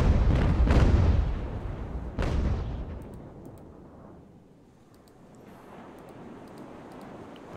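Ship cannon broadsides firing in the age-of-sail naval game Ultimate Admiral: Age of Sail, heavy booming blasts with rumbling tails, the loudest two near the start, fading into a lower rolling rumble.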